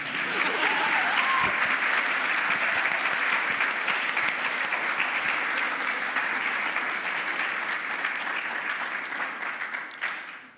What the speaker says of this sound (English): Oh yeah, clap, clap, clap.